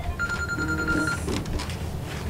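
A telephone rings during a town charter review committee meeting, its bright electronic trill sounding in a couple of bursts over a quiet room.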